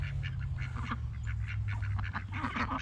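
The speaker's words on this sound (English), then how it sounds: "We got ducks for meat and eggs." A cluster of ducks quacking in repeated, overlapping calls over a steady low hum, fairly close and continuous throughout.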